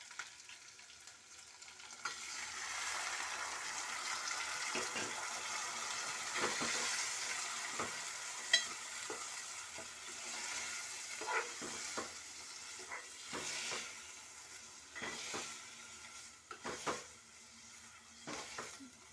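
Tomatoes fry in hot oil in a pan, giving a steady bright sizzle close up, with intermittent stirring clinks and scrapes against the pan.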